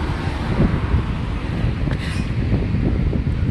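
Steady outdoor wind noise in South Korea buffets the microphone with low rumbling gusts, continuous and fairly loud, with no voices.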